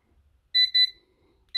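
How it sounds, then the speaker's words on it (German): An XREXS digital magnetic illuminated kitchen timer sounds its alarm: two quick, loud electronic beeps close together, a short gap, then a third beep starting at the very end, with no voices. "Ganz normaler nerviger Piepton, wie man das so vom Wecker her kennt."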